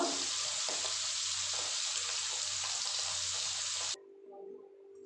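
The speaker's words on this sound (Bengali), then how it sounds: "এক এক করে আমি মাছগুলো ভেজে নেব" Fish frying in hot oil at medium heat, a steady bright sizzling hiss for about four seconds that then drops away to a quieter, softer crackle.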